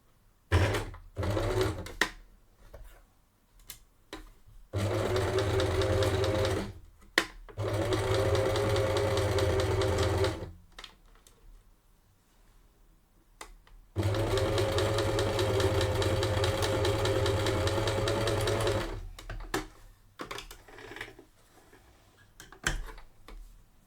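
A sewing machine runs a short straight stitch across a bralette, with two sustained bursts of steady mechanical whirring between quiet pauses and light handling clicks.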